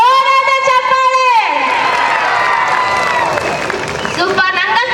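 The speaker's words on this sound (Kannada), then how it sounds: "ಬನ್ನಿ ಜೋರಾದ ಚಪ್ಪಾಳೆ" Crowd at a Sai temple festival cultural programme in Ibrahimpur cheering and applauding, a loud, dense wash of voices and claps rising after a brief opening of music, continuing throughout.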